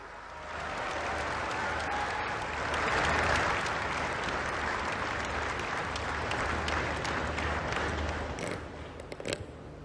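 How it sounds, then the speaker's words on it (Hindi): Large audience applause welcoming the Prime Minister at the India International Bullion Exchange launch event, sustained dense clapping swelling briefly then continuing steadily for about ten seconds, with a few sharper claps near the end. "आइए जोरदार तालियों के साथ आमंत्रित करते हैं"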